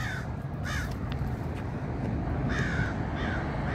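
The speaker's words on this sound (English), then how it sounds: "Hear that bird over there?" A crow caws several times outdoors, harsh and moderately distant, over a steady background hum of traffic or wind, with no talking.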